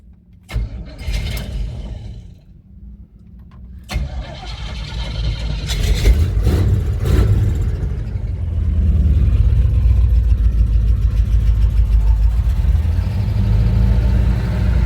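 A Jeep K5 fitted with a Muncie 4-speed compound-low gearbox fires up after a couple of brief cranks, then settles into a loud, steady, close idle that holds to the end.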